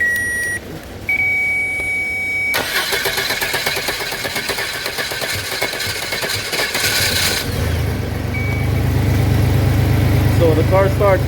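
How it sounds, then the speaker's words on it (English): A 1997 Chevy Astro van with a starter power fault is cranked and catches, settling into a low idle while people talk nearby; beeping tones sound before the start. "So the car starts"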